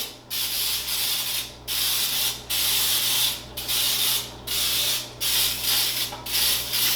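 Repeated bursts of cooking spray with flour into a cake pan, about ten short hissing aerosol pulses in a steady rhythm, close by, with no talking.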